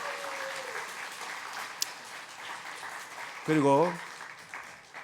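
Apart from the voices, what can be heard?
audience applause for professors and staff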